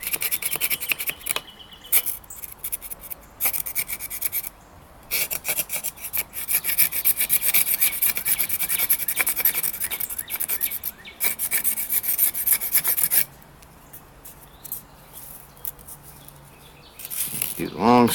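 Bark is shaved off a length of crepe myrtle wood meant for smoking meat, giving repeated close scraping, rasping strokes in quick bursts with short pauses, then a quieter, sparser stretch near the end.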